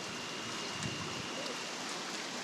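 Water flows steadily through ancient irrigation canals at an outdoor ruin site, a soft continuous hiss and trickle with a few faint bubbling splashes and no voices.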